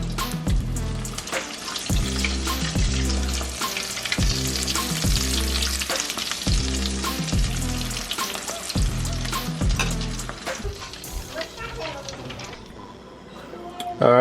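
Breaded king crab legs fry in a pot of oil with a loud, steady sizzle for the whole stretch, and a rhythmic knocking repeats underneath it.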